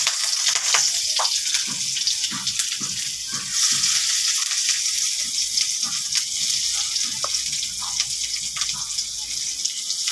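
Chopped onions hit a hot pan for a spicy noodle dish, giving a steady, fairly loud frying hiss with light crackles throughout, while a voice speaks intermittently over the cooking noise.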